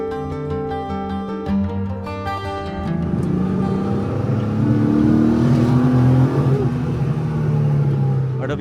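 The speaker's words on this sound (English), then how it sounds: "RWB Tubero is a Porsche 993, and it has an RWB kit" An orange Porsche 993 with an RWB wide body kit revs its engine, a deep rumble swelling loud and sustained after a few seconds of background music.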